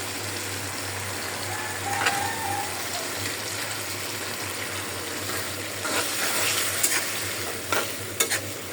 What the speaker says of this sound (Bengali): শিং মাছ বোনা করার জন্য মশলাটা আমি কষায় নিলাম। এবার দিয়ে দিব টমেটো।